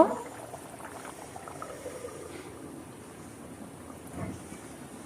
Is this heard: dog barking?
no